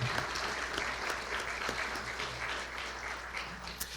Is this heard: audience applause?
yes